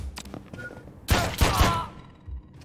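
Enemy gunfire in the John Wick Hex action strategy game: a cluster of three heavy, thudding shots close together in the middle, with softer impacts before and after and a faint voice underneath.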